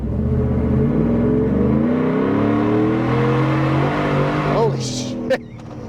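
A supercharged 2024 Ford F-150 4x4 with the 5.0L V8 and a Whipple kit accelerates at half throttle in a loud, rising engine roar, and an excited voice breaks in near the end.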